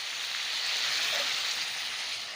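Bottle gourd sizzles steadily while being sautéed in a pan for a fish curry, a close, even, continuous hiss with no talking.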